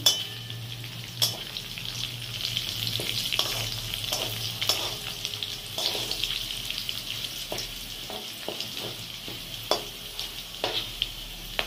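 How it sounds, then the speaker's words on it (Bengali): Fried potatoes in hot oil with dried red chillies, bay leaf, whole garam masala and cumin sizzling steadily, with scattered clinks and scrapes of stirring in the pan throughout. "এই আলু ভাজার মধ্যেই শুকনো লঙ্কা, তেজপাতা, গোটা গরম মশলা আর জিরে আছে, ফোড়ন দিয়ে দিলাম"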